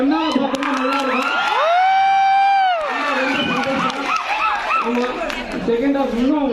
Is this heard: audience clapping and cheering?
yes